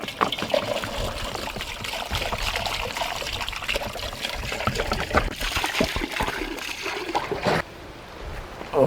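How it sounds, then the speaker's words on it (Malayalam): Water is poured from a vessel onto beef leg pieces cooking in a pot, making a continuous close trickle and splash that breaks off briefly near the end. "ഇനി കുറച്ച് വെള്ളം കൂടെ ഒഴിക്കാം."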